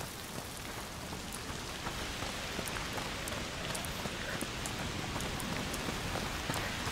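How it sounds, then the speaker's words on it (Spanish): Steady, dense rain pours down in A Plague Tale: Requiem, a constant hiss of drops on surfaces with no speech and no letup across the whole stretch. "la que está cayendo es impresionante. ¿Cómo llueve?"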